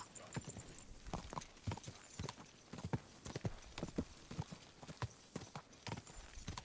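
Rapid, rhythmic hoofbeats of a horse galloping in the video game Kingdom Come Deliverance 2 continue steadily and fairly close, with no voices over them.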